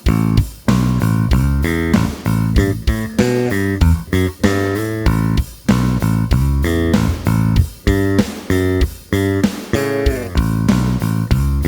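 A bass guitar plays a punchy, repeating riff of short plucked notes with a steady rhythm, loud and close, with no other instruments or voices.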